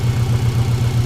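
A 2002 Subaru WRX GC8 engine idles after an ignition coil conversion, a steady, loud, close low throb with an even pulsing rhythm and no talk.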